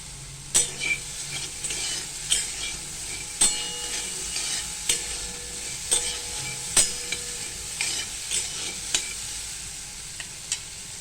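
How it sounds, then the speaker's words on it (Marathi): Soaked, salted chickpeas are sautéed in oil over medium heat. A spoon scrapes and clinks against the pan in irregular strokes over a soft, steady sizzle, close by with no talking. "चणे आपण भाजतो, मीठ टाकलंय मी, मीठ टाकून आता भाजून घेते।"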